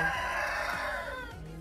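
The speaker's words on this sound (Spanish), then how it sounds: "Por ahí andan unos gallos también." A rooster at a plant nursery lets out a long, loud crow that fades out, heard at moderate distance.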